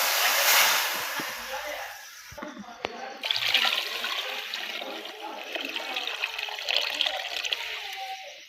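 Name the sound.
water poured into pan of roasted peas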